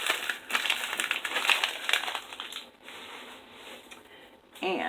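Paper is crumpled by hand during Christmas card crafting with glitter, a close, busy crinkling and crushing that fades out over a few seconds, followed by a brief clatter, with no voices.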